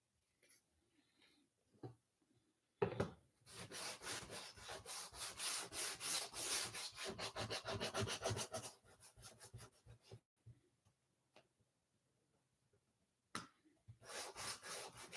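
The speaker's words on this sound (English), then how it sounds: "I'm going to sand it down some" A wooden bunny craft sign is sanded by hand. Loud, rapid back-and-forth rubbing strokes run for several seconds in one burst, then a shorter burst follows after a quiet gap.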